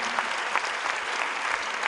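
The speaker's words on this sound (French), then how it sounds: "Je vous demande d'accueillir et d'applaudir Florent, Diane et Maëva." Continuous audience applause at a music showcase in Castres, dense and steady clapping filling the whole short moment without a break.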